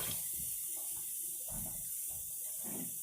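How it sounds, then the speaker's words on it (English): Tap water runs steadily into a kitchen sink while a knife is rinsed between cuts of lamb off the bone, a close continuous hiss with soft splashing surges. "Wash my knife real quick."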